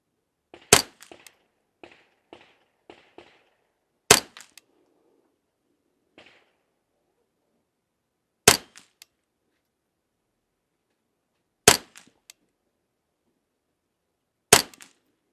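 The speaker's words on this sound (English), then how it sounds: "I got 10 more rounds in the magazine for the snake fluted Volquartsen Inferno" A Volquartsen Inferno .22 pistol with a snake-fluted barrel fires single sharp shots spaced several seconds apart, crisp and close, with faint clicks and handling noises between rounds.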